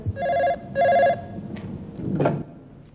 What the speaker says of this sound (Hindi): सर, आपकी वाइफ का फोन।